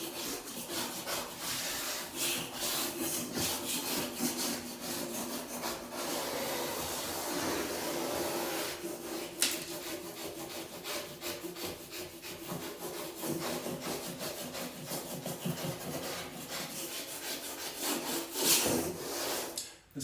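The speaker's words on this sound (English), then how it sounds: "We'll work first with the scraper like this." A scraper rasps steadily across drywall compound on a pantry wall in long, continuous strokes, gritty and close, with no voices.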